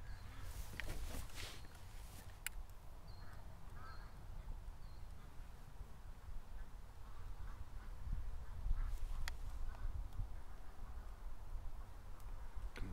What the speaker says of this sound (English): Ducks just panicked